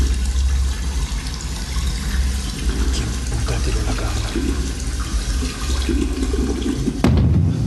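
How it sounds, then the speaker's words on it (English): A toilet flushes upstairs in an old house in a film scene: a steady rushing gurgle of water running and refilling throughout, with a sharp knock near the end. "they hear a toilet flush upstairs"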